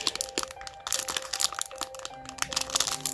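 A vintage Japanese trading card pack is struggled open by hand, giving close crinkling and crackling foil-wrapper noise in irregular bursts with sharp tearing snaps throughout, no speech.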